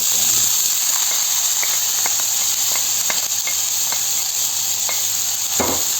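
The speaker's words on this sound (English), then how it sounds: "we're gonna fry some vegetables there for our wrap" Vegetables frying in heated olive oil in a pan for a tortilla wrap, a loud constant sizzling hiss with light scattered ticks and a brief scrape near the end.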